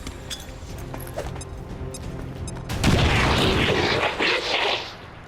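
A grenade explosion in the video game XCOM 2, a loud broad roaring blast that swells midway and rumbles on for a couple of seconds before fading, with game noise before it and no talk.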